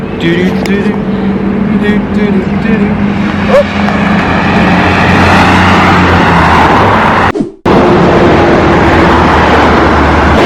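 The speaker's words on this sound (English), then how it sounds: "the cars are driving quite fast" Steady road traffic rushes past a roadside in Turkey, a continuous loud roar of fast-moving cars close by, with voices talking over it.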